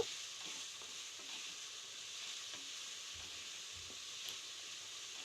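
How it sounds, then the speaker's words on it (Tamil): Vegetables frying in oil with a little salt, a faint, steady hiss and sizzle with a few soft stirring taps, quiet and without voices. "ஸோ நல்லா எண்ணெயிலே அப்படியே ஃப்ரை பண்ணிகிட்டே இருக்கும்போது நல்லா அது ஃப்ரை ஆகிடும்"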